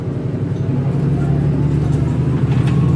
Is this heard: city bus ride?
yes